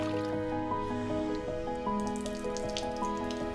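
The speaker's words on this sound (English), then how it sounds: "Water." Water drips in a steady pattern of clear, close, repeated droplets with a faint liquid squish, heard alone.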